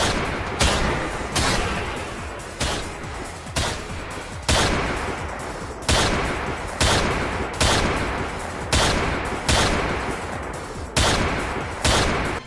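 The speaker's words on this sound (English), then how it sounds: "I got tired of looking at all this boring gunplay action" Blaster and gunfire crackle during an on-foot combat section of the video game Star Wars Rebel Strike. Loud, dense bursts arrive in roughly one-second repeating pulses, each decaying quickly, with no speech over them.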